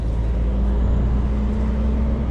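Heavy road traffic of big rigs on a main road, a continuous low rumble of engines and tyres with a broad roar holding steady and fairly loud across the whole stretch, with no talking.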